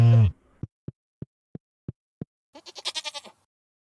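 Farm goats in the farming game Stardew Valley bleat in a row, a string of short evenly spaced blips followed by a quavering bleat, clean and isolated with no talk.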